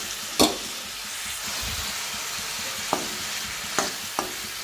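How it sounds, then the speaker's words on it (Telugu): Cauliflower pieces with chili powder being stirred and fried in a pan, with a low steady sizzle and a few sharp utensil scrapes and knocks against the pan, heard close without speech. "వీటిని ఫ్రై చేసేసుకుంటున్నాను"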